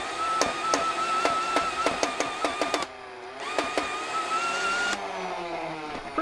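A Nerf Hyper blaster's agitator motor whirring and straining as it bogs down, a buzzy electric drone punctuated by rapid clicking shots, cutting out briefly and then resuming, close to the microphone with no talking.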